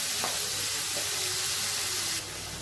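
Onions and spices sautéing in hot oil for an egg kurma, a steady close-up sizzle and hiss with a faint stir near the start, dropping slightly in level near the end.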